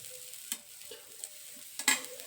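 A nevanakki dosa sizzles quietly on a pan as oil is poured around its edge, a faint crackle punctuated by a few brief sharp clinks, nearby with no speech.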